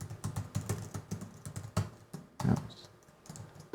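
Rapid clicks of a computer keyboard under steady typing, close and fairly crisp, with short pauses between bursts of keystrokes.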